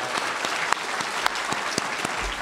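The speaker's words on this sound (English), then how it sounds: "Let's give them a big round of applause" A crowd at a horror writers' awards ceremony applauds the event's volunteers, a brisk burst of many hands with a few louder nearby claps standing out.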